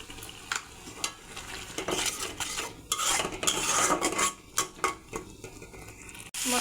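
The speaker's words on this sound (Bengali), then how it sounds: "এবার মশলাটা ভালো করে কষিয়ে নেব" A spatula scrapes and clinks against a pan as spice paste for a ridge gourd and prawn malaikari is stirred and sautéed, with soft sizzling underneath and irregular knocks throughout, no voices.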